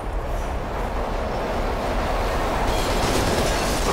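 A train roars past in a tunnel in the video game F.E.A.R. 2, a loud continuous rumble with rattling wheels that swells slightly toward the end, with no voices.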